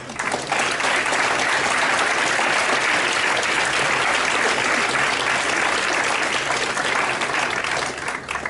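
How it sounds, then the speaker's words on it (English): Audience at a BYU 2015 Three Minute Thesis event applauding the contestants, a sustained, dense round of clapping from a full room, loud and steady throughout. "if we could give one more round of applause for our contestants today"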